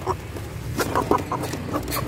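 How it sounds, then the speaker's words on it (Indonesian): A few short clucks from a chicken, close by and fairly quiet, scattered over about two seconds with a low background hum and no talking. "Ini ayam, kita gabung dulu"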